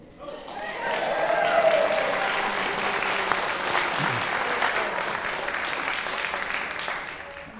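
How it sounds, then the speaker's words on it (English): Congregation applauding at a church meeting as departing board members are thanked, a broad sustained wash of clapping swelling then slowly tapering, with a voice speaking over it. "Are you all applauding the budget?"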